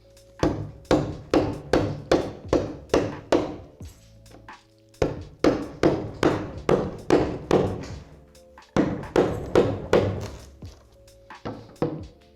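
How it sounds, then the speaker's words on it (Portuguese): Repeated carving strikes into surfboard foam while cutting a fin box cavity, worked slowly in the centre away from the edges; steady runs of sharp, close thunking chops in three bursts with brief pauses between them. "Cavamos no centro com muito cuidado para não encostar nas bordas."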